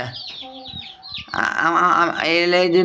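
Broiler chicken chicks cheep in a steady high chatter, close by, with people talking over them for much of the time.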